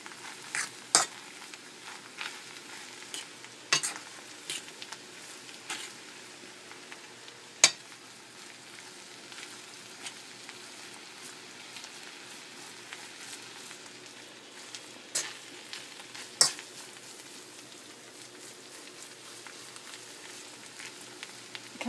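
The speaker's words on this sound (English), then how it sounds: "I will add my meat next, which is shrimp pieces. And I stir that into the mix." Shrimp pieces stirred into frying Chinese rice, a low steady sizzle broken by scattered clinks and scrapes of a utensil against the pan, fairly quiet and with no talking.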